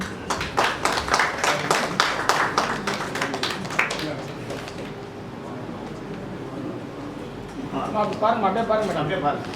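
Scattered applause from a modest audience at a Tamil film team's press meet crackles for about four seconds, then dies away as a voice speaks over the room.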